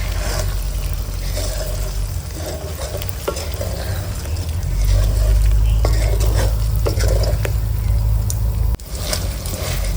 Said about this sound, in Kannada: ಈಗ ಇದನ್ನ ಚೆನ್ನಾಗಿ ಮಿಕ್ಸ್ ಮಾಡ್ಕೋಬೇಕು